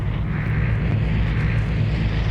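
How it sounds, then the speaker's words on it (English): An airdrop plane flies over in the video game Vigor, a loud, steady low engine drone rumbling overhead without any talking. "Here comes the plane."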